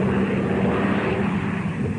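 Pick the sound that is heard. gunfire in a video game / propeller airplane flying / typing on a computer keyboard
propeller airplane flying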